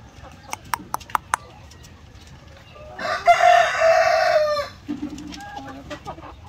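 Farm chickens fed coconut pulp cluck in short, sharp bursts before a rooster lets out one long, loud crow, followed by a few softer clucks and scattered barnyard noise.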